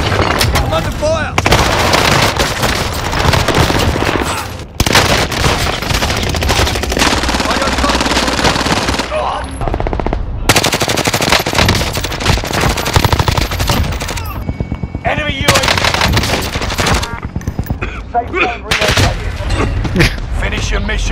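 Sustained automatic gunfire and rapid shooting from a video game, loud and dense throughout with brief gaps, occasional deeper booms mixed in, and voices talking over the action.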